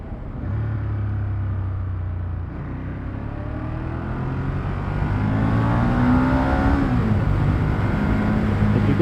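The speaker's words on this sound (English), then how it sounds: "As you can see, I'm revving pretty hard right now." A motorcycle engine revs hard and steadily, its pitch climbing and holding near, with a throaty rumble throughout and no voices.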